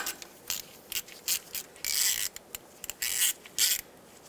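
Socket ratchet loosening a small 8mm bolt on the wheel bearing knuckle of a 2008-2010 Ford F-450 Super Duty, a series of short clicking ratchet strokes and scrapes, close and fairly quiet.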